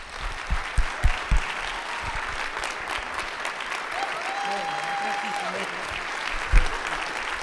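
Church audience applause welcoming Mark Meckler, a steady crowd clapping that fills the room. A few louder claps stand out at the start and again near the end, and a voice is heard over it.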